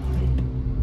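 A 2008 Honda Civic engine revs in neutral, a steady low rumble that swells briefly, close and loud, with no talk over it.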